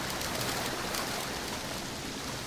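Rain falling in a Tomb Raider video game, a dense, even hiss of downpour that holds steady without breaks and with no speech over it.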